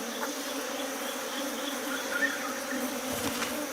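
A swarm of bees buzzes around a hole in a tree in a wild forest setting, a dense, steady, close drone with no other sounds.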